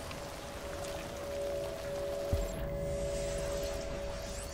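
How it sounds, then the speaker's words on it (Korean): Steady rain from the video game Detroit: Become Human, a soft continuous patter with a low hum beneath it, holding even throughout and briefly marked by a single dull thump. "빗소리가 더 커요."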